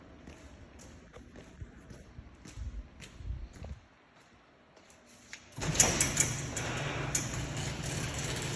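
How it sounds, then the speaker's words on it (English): A garage door being opened before a 1963 Ford Thunderbird convertible is pulled outside: some clunks and handling noises, a brief pause, then a loud sustained rolling rumble with a metallic squeal near the microphone. "Oops, guess I need to open the door."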